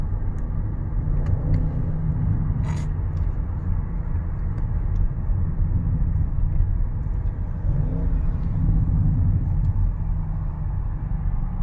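Audi RS6 C8 engine running in sport mode, heard from inside the cabin as a steady, deep, loud rumble that holds evenly throughout with no talking.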